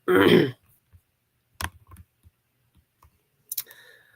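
Sparse computer mouse clicks while a birth chart is filled in on a computer, faint and spaced out over a quiet room, following a brief throat clearing at the start.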